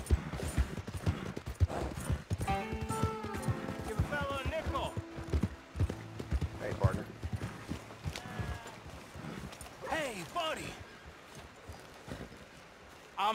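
Hooves of a horse galloping in Red Dead Redemption 2 beat in a steady, loud clip-clop run, with a whinny and game music over it and a voice talking at times.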